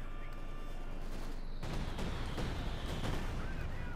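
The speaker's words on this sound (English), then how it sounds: "Bombing run inbound." A bombing run in Company of Heroes 2 brings a sudden burst of rumbling explosions and scattered blasts that keep thudding on, after a quieter stretch of battlefield noise at the start.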